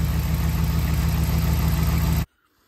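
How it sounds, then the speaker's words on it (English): A car engine idles steadily and loud after being fired up during a transmission cooler line hose repair, with a strong low hum for about two seconds before it cuts off abruptly to near silence. "So we're gonna fire it up and check for leaks."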